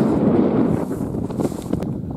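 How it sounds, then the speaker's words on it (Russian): Heavy wind buffets the microphone outdoors on a frozen lake in January, a loud low roar that rumbles and gusts continuously with no voices. "Сейчас ветер и звук, наверное, плохой будет. Ветер сильный сегодня."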